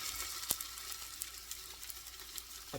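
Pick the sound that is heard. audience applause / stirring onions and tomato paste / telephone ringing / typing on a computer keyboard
stirring onions and tomato paste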